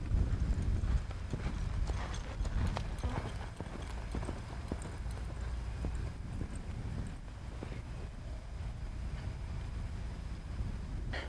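A horse galloping during barrel racing training, its hoofbeats forming a steady, continuous clip-clop rhythm at close range for the whole stretch, with occasional faint background voices.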